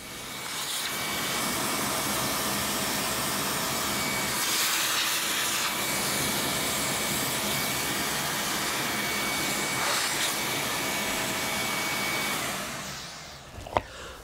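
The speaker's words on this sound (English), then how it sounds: "We're going to get our mask and turn on our vacuum." A workshop vacuum roars steadily and loudly for a long stretch while sanding a guitar headstock inlay, then winds down and cuts off near the end.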